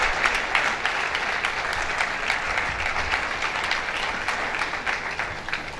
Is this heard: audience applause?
yes